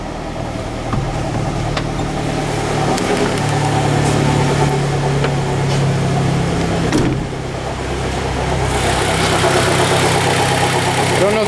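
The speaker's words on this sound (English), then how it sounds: "Nice, it starts right up. Really high idle again though, which is really odd." A Saturn car engine idles high after a cold start, a loud steady mid-pitched drone with a faint whine and light ticking, close to the listener, nothing else over it.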